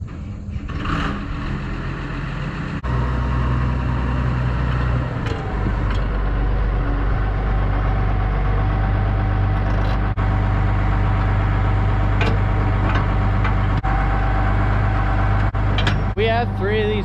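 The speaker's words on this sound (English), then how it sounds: "I'm gonna get the tractor and just take it out up on the hill there, out of the road." A farm tractor engine runs during a corn silage harvest, kicking in after a few seconds and holding as a loud, close, steady low idling rumble, with a few small clicks and knocks on top.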